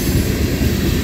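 A Norfolk Southern freight train led by locomotive 4452 rumbles past at close range in Creighton, Pennsylvania, a loud, continuous low roar of wheels and cars with no voices.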